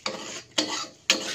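Blended sambal chili paste cooking in plenty of oil in a pan, stirred in three distinct scraping strokes with a steady sizzle-rasp between them, close and clear with no talk.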